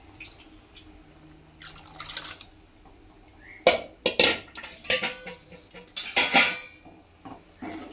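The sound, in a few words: pouring hot water into a pot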